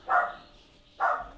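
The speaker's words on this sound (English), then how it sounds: "He's going to be a naughty dog. He's just going to bark the whole time." A dog named Dasher barks twice at a house in the countryside, two sharp, fairly close barks about a second apart with quiet in between.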